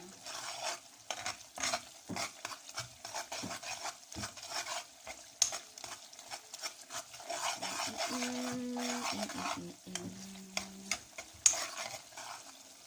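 Ingredients for Turkish kisir bulgur salad being stirred in a bowl, with soft wet scraping and mixing sounds, close and irregular, with occasional clicks of the utensil.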